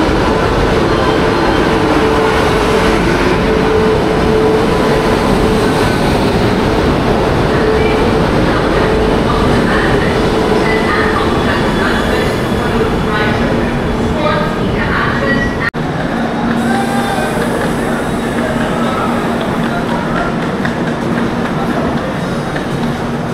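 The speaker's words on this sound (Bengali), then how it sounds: "ট্রেন ঢুকছে" Shalimar–Puri Garib Rath express pulling into a station platform, a loud continuous rumble of rolling wagons with rhythmic wheel clatter and a faint squeal, with people talking on the platform.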